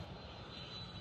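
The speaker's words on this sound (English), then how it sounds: "Another plane coming in." A continuous airplane engine roar near LAX, loud and steady, as if passing overhead on approach; no voices.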